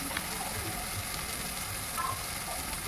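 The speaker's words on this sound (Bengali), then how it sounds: "লঙ্কা গুঁড়ো, হলুদ গুঁড়ো দিয়ে ভালো করে নেড়েচেড়ে ভেজে নিচ্ছি।" Chili powder and turmeric fry in a pan for egg tadka, giving a steady, even sizzle with faint scraping from stirring and no voices.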